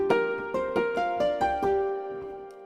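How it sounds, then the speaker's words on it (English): Synthesized santur and Celtic harp play plucked, ringing notes, each sharp attack followed by a long sustained tone, played slowly one after another with no voices. "It's the Santur and a Celtic harp."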